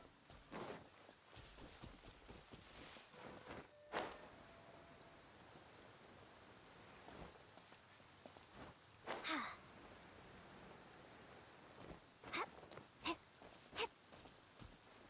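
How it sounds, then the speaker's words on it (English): Rain falls in the Genshin Impact video game as a faint, steady patter and hiss, broken by scattered sharp clicks and brief louder splashes. "It's raining."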